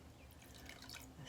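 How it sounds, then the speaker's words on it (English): Water trickles and drips into an electrolyte solution in a short, steady pour with a soft continuous wash of liquid close by and no voices. "now I'm ready to add a little bit more water to my"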